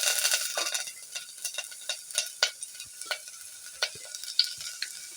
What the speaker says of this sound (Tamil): தாளிக்கிறதுக்கு தேவையான கருவேப்பிலையும் வெங்காயத்தையும் அதில்